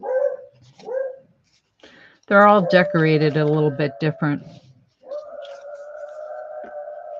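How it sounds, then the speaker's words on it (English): Beagles bark in a rapid, loud cluster of sharp yelps close by, after someone speaks briefly; a steady whine-like tone follows as the barking stops. "Oh boy, sorry about that barking."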